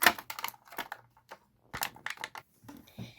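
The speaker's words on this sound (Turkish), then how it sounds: "Şimdi makasla açmayı deneyeceğim." Scissors snipping and plastic crinkling while a small boxed toy package is cut open, a run of close, sharp clicks and rustles with short pauses between them.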